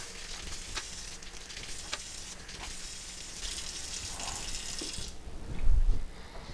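Tap water runs steadily into a kitchen sink while cucumbers are washed for pickling, a close continuous splashing with a few bumps and a louder clatter near the end.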